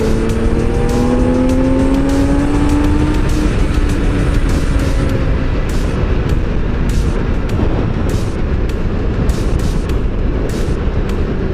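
A motorcycle engine revs loudly and continuously on a ride through rainforest roads, its pitch sweeping up and down through gear changes with steady wind rush and no talk.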